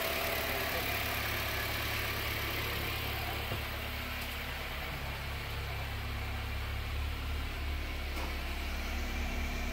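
A used car's engine idles smoothly and steadily in a showroom, a low even hum with no irregular knocks, heard close by with no talking.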